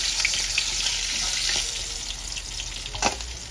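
Fish sizzling as it hits hot mustard oil in a pan, a dense, crackling hiss that runs steadily throughout with small pops and spatters, close and fairly loud, no voices.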